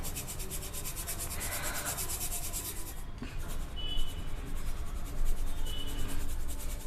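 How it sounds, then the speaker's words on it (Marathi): Sabudana and potato flour for papad rubs and rasps steadily through a small sieve, a close, continuous scratchy shuffle with a slight rhythmic pulse. "त्याने मी चाळून घेते।"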